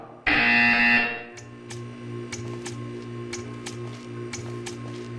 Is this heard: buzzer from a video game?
yes